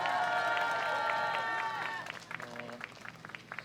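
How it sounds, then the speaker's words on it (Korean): Audience applause at a youth political rally, dense clapping that starts under a sustained tone and thins into scattered claps toward the end. "이윤찬 군에게 다시 한번 큰 박수 부탁드리겠습니다"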